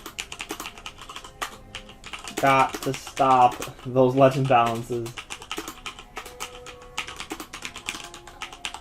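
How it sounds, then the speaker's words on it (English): Rapid clicky keystrokes on a Corsair K65 Lux RGB keyboard during a Wizard101 game session, a voice talking briefly over the typing midway before the clatter continues alone. "In case you guys are wondering what my new keyboard is, it's the Corsair K65 Lux RGB keyboard"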